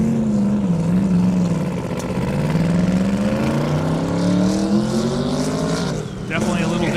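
Buddy Schultz's 2,000 horsepower Camaro launches down an airstrip, its engine roaring loud and close as the pitch climbs, drops briefly at a shift, then climbs again before another shift near the end, with a commentator talking over it.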